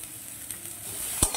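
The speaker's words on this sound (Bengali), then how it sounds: "দিয়ে সেদ্ধ করে রাখা এঁচোড়গুলো একটু ভেজে নেব" Boiled jackfruit frying with turmeric and a little salt in a pan: a faint, steady sizzle with light stirring, then one short, sharp scrape near the end, heard close and quiet.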